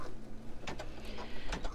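An embroidery machine stitches an outline, giving a steady, close mechanical whir with fast rhythmic ticking and a few sharper clicks.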